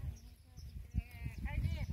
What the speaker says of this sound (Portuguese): A moça falou, a mulher falou que é carneiro.